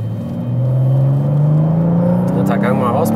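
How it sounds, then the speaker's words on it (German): A 2023 BMW M2 accelerates hard in third gear, its engine note rising steadily in a loud, continuous droning growl from inside the cabin, with a brief voice near the end. "Dritter Gang mal rausbeschleunigen."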